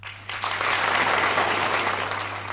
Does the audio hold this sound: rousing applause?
yes